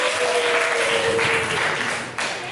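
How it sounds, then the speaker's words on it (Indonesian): A school history class applauds a student, a steady wash of claps filling the room close by with faint voices mixed in. "tepuk tangan buat Faza"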